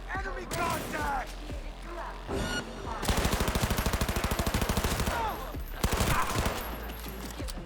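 Gunfire in the video game Cyberpunk 2077, a long rapid burst of automatic fire with evenly spaced loud shots followed by a few single shots, while players talk over it before and between the bursts.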